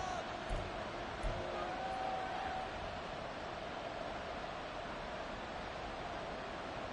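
Stadium crowd at a football game, a steady broad roar filling the background with a couple of brief louder swells early on, continuous and distant-sounding.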